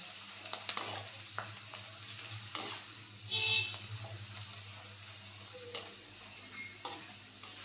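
Rice flour kurkuri snacks fry in hot oil with a soft, steady sizzle. Occasional sharp clinks and stirring knocks from a slotted spoon sound against the pan.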